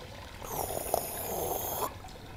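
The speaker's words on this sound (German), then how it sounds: "Lass mal auf die Toilette gehen." A toilet in the video game Fahrenheit gives a short rushing gurgle of water lasting about a second and a half, clear and close against a quiet background.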